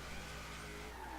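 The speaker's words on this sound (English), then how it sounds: "Uh-oh, that's a car." A car drives in the racing game Forza Horizon 3, a short, steady engine roar with tire noise and a rising pitch toward the end.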